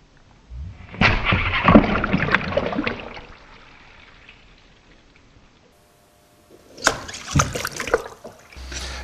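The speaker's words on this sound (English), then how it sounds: "the wave builds and the front becomes steeper and crashes on the" Water in a tsunami wave tank demonstration surges and crashes onto a model beach, a loud broad rush lasting a few seconds, a quieter lull, then a second splashing burst near the end.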